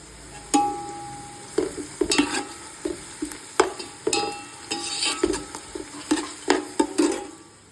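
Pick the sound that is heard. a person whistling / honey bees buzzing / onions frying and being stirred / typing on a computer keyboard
onions frying and being stirred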